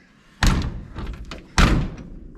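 The car door of a 1957 Chevy, an old project car with 1958 fenders fitted, slams shut twice, each a loud close metallic thud with a short rattling decay, about a second apart.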